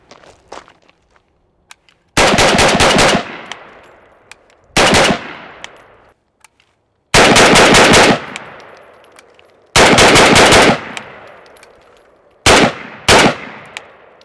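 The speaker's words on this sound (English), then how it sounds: "Let's shoot some splits, and you can see basically the muzzle does not rise." An ATI Galeo 5.56 Galil-style rifle fires rapid split shots in five or six tight, very loud bursts, each a quick string of cracks followed by a ringing echo and short silent gaps.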